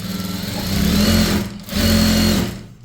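A sewing machine stitches a chudithar top in two quick runs of close, loud mechanical whirring, separated by a short pause, with no talking.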